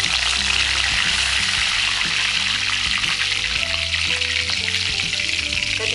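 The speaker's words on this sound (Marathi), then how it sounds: "मोहरी तडतडली आहे। कढीपत्ता टाकते।" Mustard seeds and curry leaves sizzle in hot oil in a kadhai on a gas stove for a misal tempering, giving a loud, continuous frying hiss with crackling pops throughout.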